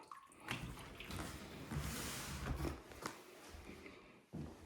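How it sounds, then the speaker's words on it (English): Running water in a hot tub out on a private deck: a faint, steady wash and splash that carries on throughout, with a couple of soft knocks. "this is a fully functioning hot tub"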